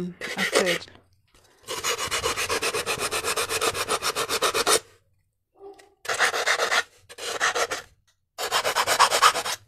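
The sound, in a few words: sanding a hard sphere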